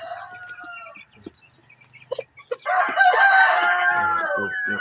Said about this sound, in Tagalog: pinakain na natin guys yung ibang manok natin